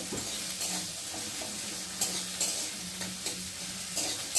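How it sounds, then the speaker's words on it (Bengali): Onions and chopped green chilli frying with potatoes in a pan, a steady soft sizzle with repeated stirring scrapes of a spatula, close and fairly quiet, with no talk. "তো আলুর সাথে ভালো করে পেঁয়াজটাকে ভেজে নেব।"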